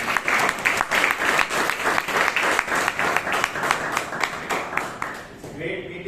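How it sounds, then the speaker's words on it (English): Audience at a Toastmasters meeting in Bangalore applauding steadily, a dense run of many hands clapping close by for about five seconds before fading out. "Round of applause, please."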